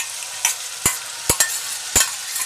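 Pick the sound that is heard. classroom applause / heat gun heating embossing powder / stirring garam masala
stirring garam masala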